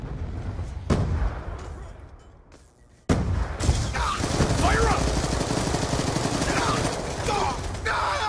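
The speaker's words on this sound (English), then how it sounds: "Throwing grenade!" A grenade is thrown during a Black Ops 2 objective-capture firefight, followed by a sharp burst and sustained loud gunfire and explosions, with brief shouted voices over the battle.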